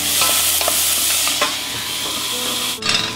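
Onions sautéing in olive oil for risotto, a steady loud sizzle with occasional stirring scrapes and clicks close by.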